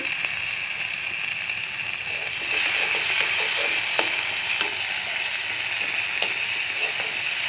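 Ginger and garlic fry in a pan, a steady bright sizzle that swells louder after a couple of seconds, with occasional scraping and tapping of a spoon stirring.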